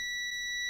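A single high-pitched electronic beep from a multimeter testing an egg boiler holds steady and loud for the whole moment, with no other sound around it.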